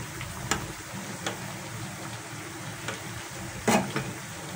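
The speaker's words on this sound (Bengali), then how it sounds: "তাহলে একটু লাল লাল করে পিঠাগুলিকে ভেজে নিচ্ছি।" Palm and semolina pitha fritters fry in hot oil with a constant dense sizzle, punctuated by occasional clicks of a utensil against the pan.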